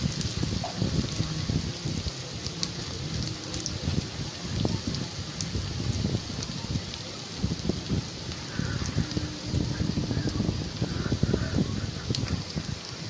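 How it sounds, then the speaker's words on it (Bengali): Onions frying in a pan as they are stirred, giving a steady crackling sizzle with scattered scraping clicks from a spoon, close and moderately loud throughout with no talking. "পেঁয়াজটা দেওয়ার পরে একটু নাড়াচাড়া করে নিলাম।"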